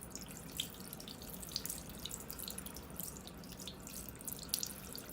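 Tap water runs steadily from a faucet into a sink during hand washing, a soft continuous hiss and splash with faint drips, low in level and with no voices.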